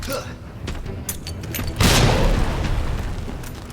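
Grenade blasts in a Leon playthrough of a combat video game, a deep booming explosion with rumbling decay following a few smaller thumps and clatter, loud and close, with a voice speaking over it.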